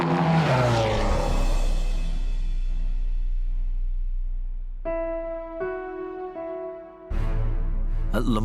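Audi and Peugeot prototype race cars at Le Mans, a loud close engine roar sweeping down in pitch as a car passes, then a steadier pitched drone from another car before a fresh surge of engine noise.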